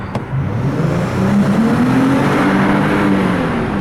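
Dodge Challenger six-cylinder engine accelerating inside a tunnel, a rising reverberant roar that climbs steadily in pitch over a few seconds, heard from inside the car with no talk.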